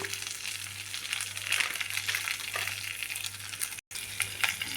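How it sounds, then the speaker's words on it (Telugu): Chili powder, crushed garlic and turmeric sizzle steadily in a hot pan while being stirred, a close, continuous frying hiss with scraping, broken by one brief silent gap and no voices. "వెల్లుల్లి పచ్చివాసన పోయేదాకా ఇలా కలుపుకుని"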